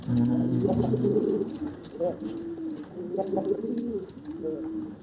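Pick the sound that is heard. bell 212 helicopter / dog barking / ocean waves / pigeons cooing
pigeons cooing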